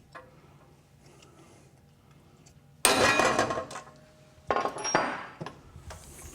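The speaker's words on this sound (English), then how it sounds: "Going to hit it with our center punch." Two sharp metallic strikes of a hammer on a center punch against an exhaust pipe, a couple of seconds apart, each ringing briefly before fading, against a quiet background.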